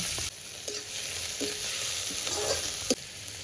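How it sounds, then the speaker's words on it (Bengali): Helencha greens frying in hot oil, a steady sizzle with a few sharp scrapes of stirring, close up and without talk. "এবার ওই তেলের ভেতরে এই যে হেলামচি শাকটা কেটে রেখেছি এই হেলামচি শাকটা ভেজে নেব"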